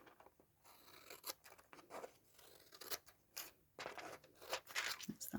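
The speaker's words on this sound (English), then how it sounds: "And then just trim these bits off." Scissors trim paper bits off a pocket for a winter gnome journal, a quiet run of irregular snips and crisp paper rustles close by, with no talking.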